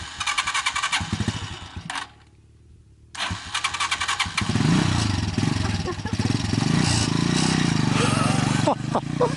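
A moped engine cranks, stalls briefly, then fires up and revs loudly, its buzzing drone rising as it rides off, with voices heard over the start.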